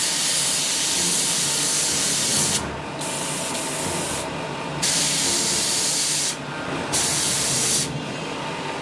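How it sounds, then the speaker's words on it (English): An airbrush sprays paint onto a model Panther tank in a loud, steady hiss, cutting out briefly several times between bursts. "I've literally painted the shadows of Space Marines with this airbrush"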